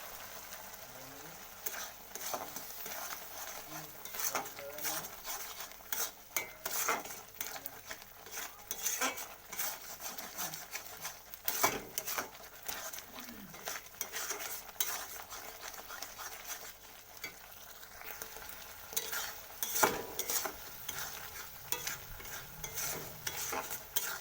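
Prawns tossed with salt and Kashmiri chili powder are stirred in a pan, a soft, fairly distant sizzle under frequent clinks and scrapes of a metal spoon against the pot.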